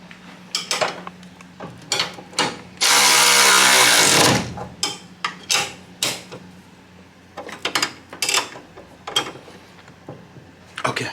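A power tool gets a test run beside a circuit car's new engine: a burst of loud whirring lasting about a second, surrounded by scattered clanks, clicks and rattles of metal parts being handled nearby.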